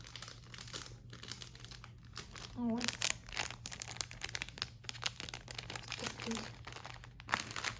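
A plastic packet crinkles and rustles in repeated bursts while someone talks over it.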